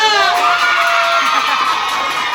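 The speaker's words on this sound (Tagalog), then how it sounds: "O dahil malakasan yung palakpak, example pa lang yun" A group of children at a Jollibee birthday party cheer and shout together in a loud, sustained roar, with clapping mixed into the dense crowd noise.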